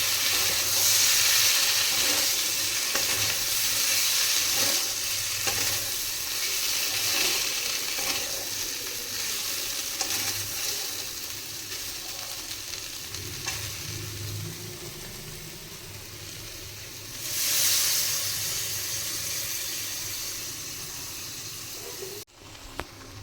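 Mustard paste stirred and sizzling in a pan with bitter melon and potatoes for a Bengali chorchori, a steady loud hiss of frying with soft scraping stirs throughout, swelling briefly near the end before cutting off.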